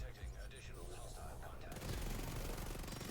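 Shotgun blasts from The Division 2 in a dense game firefight, loud and continuous, with heavy low booms layered over constant action noise and some speech underneath.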